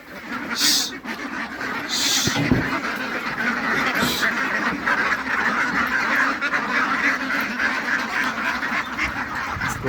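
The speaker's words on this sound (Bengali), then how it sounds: "এখন আমার হাঁসগুলো যেহেতু সবসময় আবদ্ধভাবে থাকে পুকুরে, তো এখন আমরা পুকুর থেকে ছাড়লাম খাবার খাওয়ানোর জন্য।" A flock of farm ducks let out of their pond to feed, a loud continuous chorus of quacking and honking close by with overlapping calls throughout.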